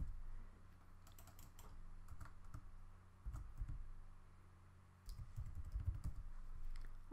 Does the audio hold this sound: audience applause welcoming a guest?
no